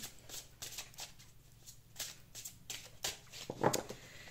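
Béline oracle cards by Gabriel Sanchez being shuffled by hand, a soft continuous riffling and slapping of card stock with repeated sharp flicks, close and fairly quiet, no talking.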